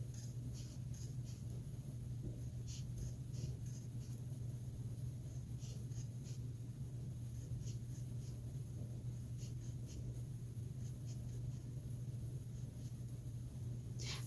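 A purple marker or crayon draws lines on paper in a kindergarten art lesson, producing faint, quick scratchy strokes in short repeated bursts over a steady low background hum, with no talk.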